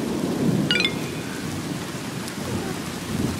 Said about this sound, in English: it is like pouring rain and really bad thunder